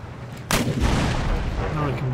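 Cannon fire in the video game Empire Total War: a sharp booming shot bursts out against a low battlefield rumble, followed by a rolling, sustained roar of guns.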